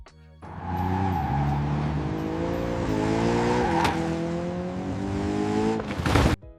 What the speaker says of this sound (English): Another example is of this car drifting